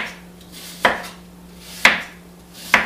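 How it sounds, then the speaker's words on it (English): A knife slices through Granny Smith apples for a homemade apple pie, giving three crisp cutting strokes about a second apart, each ending in a sharp tap on the board, close and clear with no talk. "so we're just going to keep slicing"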